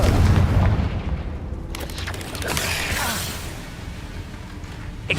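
A Confringo spell blast in the video game Hogwarts Legacy: a loud booming burst at the start, then a swishing rush and a lingering rumble, with a faint voice in the mix.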